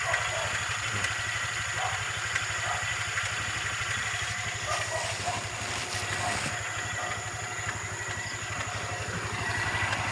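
A motorcycle engine idles steadily with an even low throb, running continuously at moderate volume amid outdoor background noise.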